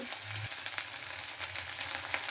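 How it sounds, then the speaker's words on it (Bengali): Ground spice paste sizzles steadily in hot oil for a tangra fish dish, a dense continuous frying hiss close by with no talking. "বাটা মশলাগুলো ভালোভাবে তেলের সাথে ভেজে নিচ্ছি"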